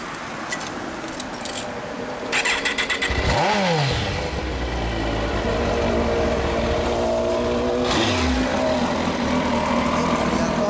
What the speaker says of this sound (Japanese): 2007年、はい、エンジン音聞かせてもらえるかな。